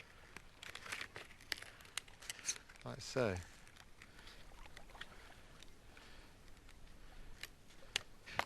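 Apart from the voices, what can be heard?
scissors cutting thin split cedar sheeting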